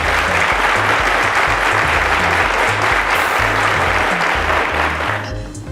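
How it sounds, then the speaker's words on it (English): Audience applause at the Cowbellpedia 2017 season finale for the second runner-up, a dense, sustained wash of clapping from a large crowd that holds steady and loud before tapering off at the very end. "Ladies and gentlemen, a round of applause to"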